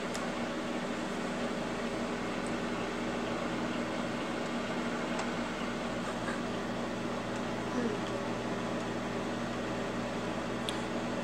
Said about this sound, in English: stick the bowl or plate, as the case may be, in the microwave and set it to 2 minutes